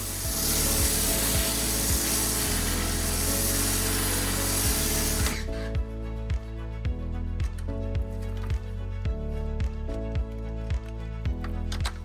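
An MJJC SV3 snow foam cannon with a 1.1mm orifice nozzle sprays thick foam in a loud, steady hiss for about five seconds, then cuts off, leaving rhythmic background music.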